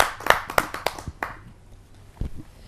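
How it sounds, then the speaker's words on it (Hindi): A few scattered hand claps ring out close by at a Hindi poetry gathering (kavi sammelan), sparse and uneven, then fade into near quiet before a couple more faint claps. "आइए उनका स्वागत करते हैं आप सबकी जोरदार तालियों से।"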